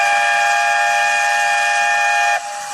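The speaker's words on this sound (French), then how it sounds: "c'est le son du RER A qui vous amène en gare de Courbevoie" An RER A commuter train arriving at Courbevoie station sounds a loud sustained multi-tone whistle, steady for over two seconds before cutting off abruptly, leaving a softer hiss.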